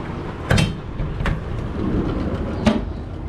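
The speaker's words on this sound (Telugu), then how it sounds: "ఇదిగోండి రైల్వే స్టేషన్" Platform ambience at Vasco da Gama railway station: a steady low rumble of trains and crowd murmur, broken by a few sharp metallic clanks.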